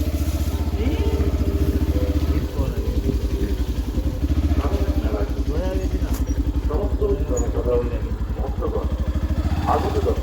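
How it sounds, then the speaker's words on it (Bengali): A motorcycle engine runs steadily throughout with a low, pulsing rumble while riding to the Swaminath fair, and voices talk faintly over it. "তো এখন আছি আমরা বাইকে যাচ্ছি"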